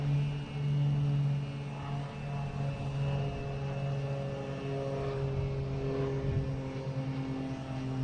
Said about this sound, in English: Cessna's heading to Rutland.